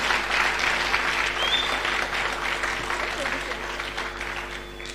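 Clapping from an audience at a school's 80th anniversary event, a sustained round of applause that slowly fades over a few seconds, with a faint whistle and murmuring voices mixed in.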